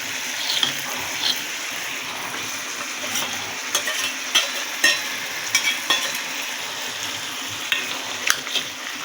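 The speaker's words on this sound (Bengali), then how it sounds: "এখন আমি মাছের মাথাগুলো দিয়ে দিই।" Rohu fish heads frying in a pan with vegetables, a steady sizzle with repeated scraping clicks of a spoon stirring against the metal, close and continuous with no talking.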